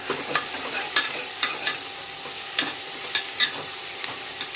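Tomatoes, coriander and mint sauté in a pan for home-style biryani, a soft continuous sizzle punctuated by regular crisp scrapes of a spoon stirring against the pan, with no speech.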